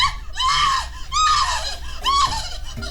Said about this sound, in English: Panic shrieks of fear from woman.